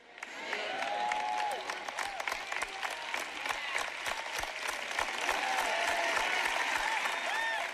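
Church audience applauding during a sermon on tithing, steady dense clapping heard at moderate distance for several seconds.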